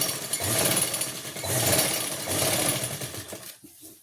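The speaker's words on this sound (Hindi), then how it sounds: "हम यहाँ पे सिलाई लगा लेंगे। बहुत ही आराम से लगानी है आपको।" Sewing machine stitching the waistband of plazo pants, running in steady bursts of rapid needle clatter with brief slowdowns, then stopping near the end.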